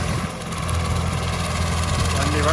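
A Swraj 744 tractor engine drives an attached banana cutting machine, a loud steady rumbling drone running throughout, close by and unbroken.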